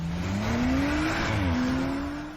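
A Tesla Model 3 Performance pulls hard from a standing start while racing an Audi RS5. A rising electric motor whine dips briefly, then climbs again over constant loud road and wind noise inside the cabin.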